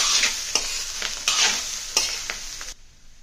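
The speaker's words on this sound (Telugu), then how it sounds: "ఇంకా దీన్ని చక్కగా కలిపేద్దాం." Prawn fried rice with pepper powder and coriander tossed in a pan: a sizzling bed under several rhythmic scraping stirs, close and loud, cutting off abruptly near the end.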